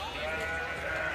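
A pet sheep bleats at an agricultural show, one sustained wavering bleat filling the moment, close and fairly loud, with no talking over it.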